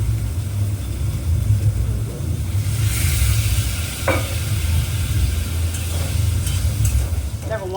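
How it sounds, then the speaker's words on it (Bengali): Masala spice paste sizzles in oil as it is stirred, giving a steady frying hiss with occasional scraping clinks over a constant low background hum. "মশলাটা কষানো হয়ে গেছে তেলটাও বেরিয়ে গেছে"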